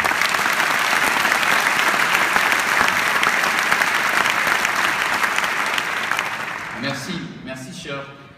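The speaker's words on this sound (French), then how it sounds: "Je vous demande de l'accueillir et de l'applaudir." Loud, sustained applause from a large crowd at a rally supporting Eastern Christians, dense and steady for several seconds before thinning out, with a voice briefly emerging at the end.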